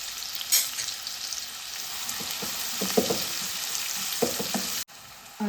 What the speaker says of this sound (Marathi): कांदा परतून घ्यायचा आहे एकदम